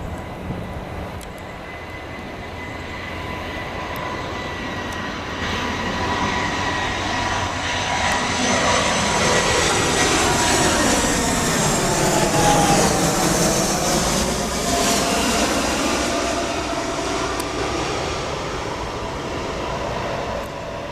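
A passenger airliner touches down at Atlanta's Hartsfield airport in a crosswind, its jet engines roaring loudly and sweeping in pitch as it passes close by, the rumble swelling and then slowly fading.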